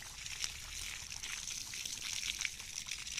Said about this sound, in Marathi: आज मी देते माझ्या गार्डनमधल्या झाडांना पाणी